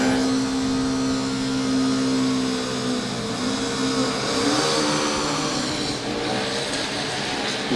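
Formula Student race car on an acceleration run, its engine revving loudly and steadily with wheel spin at the launch, a sustained close roar with shifting pitch throughout.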